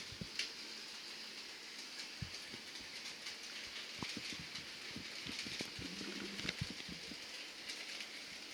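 A small model train runs on a layout, rumbling steadily along with faint clicking wheel noises and occasional sharp clacks, fairly quiet with a hissy background.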